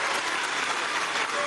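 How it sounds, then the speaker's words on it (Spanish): Audience applauding students for their feat at a Venezuelan school event, an even, continuous patter of clapping held at steady moderate loudness for the brief moment. "lo que nos queda es darle un aplauso por esta proeza"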